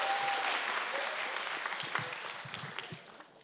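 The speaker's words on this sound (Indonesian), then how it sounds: "Ih tepuk tangan dong buat Tama dong." Audience applause at a comedy show, a dense wash of clapping that starts full and gradually thins and fades out over a few seconds, with faint voices underneath.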